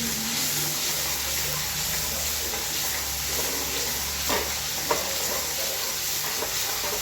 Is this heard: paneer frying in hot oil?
yes